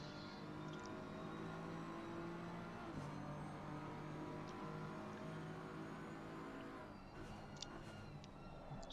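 A BMW race car laps Brands Hatch in a racing video game, its engine droning at sustained revs, shifting pitch around three seconds in and again near seven as it brakes and accelerates.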